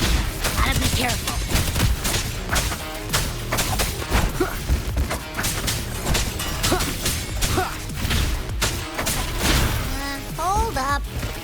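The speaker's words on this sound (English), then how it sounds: "Ugh, gunfire! Coming from behind that door!" Gunfire from the video game Wuthering Waves, heard as rapid, dense bursts of shots with whooshes and crashes throughout, layered over game music and effects at steady loudness.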